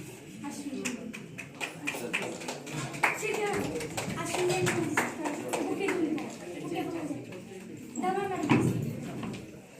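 Scattered audience clapping at a felicitation ceremony with trophies, light and uneven taps running under someone speaking over a microphone, swelling briefly near the end.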